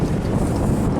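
Strong high wind blows near a sheltering bush, a loud, steady roar buffeting the microphone for about a second with no voices.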